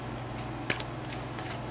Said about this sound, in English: I'm just going to give the cards a couple more shuffles here.